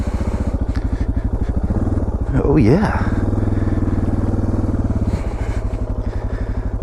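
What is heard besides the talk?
326-pound motorcycle engine while stuck off road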